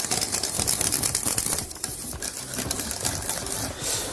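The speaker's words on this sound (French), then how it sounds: "Et là, surtout, il faut bien fouetter." Pastry cream for a Saint-Honoré being whisked hard off the heat, a fast continuous metallic scraping and rattling of the whisk in the pan, close and steady with a brief dip midway.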